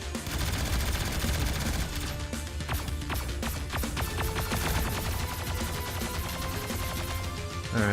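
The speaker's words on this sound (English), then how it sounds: "How do you fire the missiles?" Rapid bursts of missile and weapon fire from the space combat game Starpoint Gemini 3, a dense rattling volley of repeated shots that stays loud and steady throughout with no voices.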